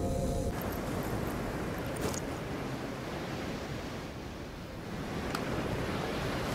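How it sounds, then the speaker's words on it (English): Wind blowing in the horror video game White Noise 2, a steady broadband whooshing rush that continues for the whole stretch with slight swells. "It's real goddamn windy."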